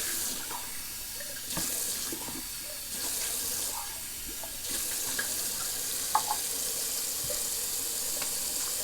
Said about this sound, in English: Let me just rinse that out of there.